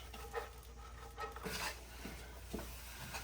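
Vegetables for crunchy veggie tacos tossed and stirred in an oiled pan: faint soft sizzling with a few quiet scraping and shuffling strokes at irregular intervals.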